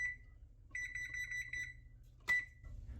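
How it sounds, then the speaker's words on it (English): An oven timer gives a short electronic beep, then a rapid string of beeps as it is set, ending with a sharp click, all close and clear over a low kitchen hum. "I'm going to set the timer for 5 minutes."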